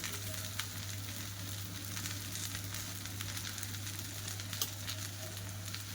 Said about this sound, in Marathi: आता आपली भेंडी छान फ्राय झालेली आहे।